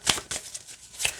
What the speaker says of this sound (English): no matter how you like to shuffle it